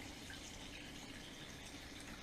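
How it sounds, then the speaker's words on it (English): Water drains by gravity from the hose of a Panda portable washing machine, a faint, steady trickling gush that carries on evenly without a break. "so it's drained the water out"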